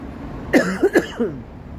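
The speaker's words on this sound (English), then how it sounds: "Don't mind my coughing here." A man coughs several times in quick succession, a harsh burst followed by two or three shorter hacks, close to the mic on an evening street livestream in Toronto.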